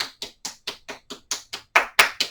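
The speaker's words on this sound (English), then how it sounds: "A little clap in there." Eleven sharp hand claps or finger taps in an even, steady rhythm during a yoga class, close and clear, the last few louder, with no talking.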